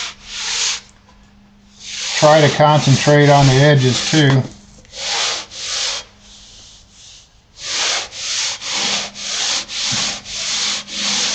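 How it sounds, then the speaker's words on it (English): Foam wing sheeting being hand-sanded in steady back-and-forth strokes, a rhythmic series of close, loud scratchy rasps with a short pause while someone speaks briefly partway through. "as I'm sanding, I'm lifting up just a little bit on this"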